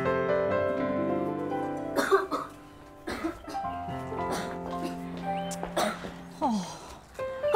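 A person with a cold coughs in repeated harsh bursts, close and loud, with throat-clearing between the fits and musical score underneath.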